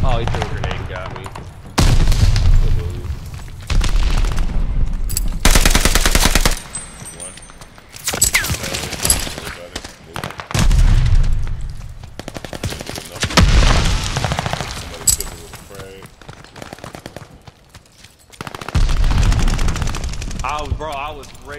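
Heavy automatic gunfire in a Call of Duty: Vanguard hardcore Kill Confirmed multiplayer match, the player using an STK rifle: loud, close bursts of rapid shots separated by short pauses, with a few quieter gaps and faint voices in between.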